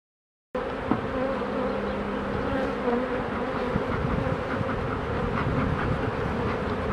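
Honey bees buzz steadily close by, a dense continuous drone that begins abruptly after a short silence and holds throughout.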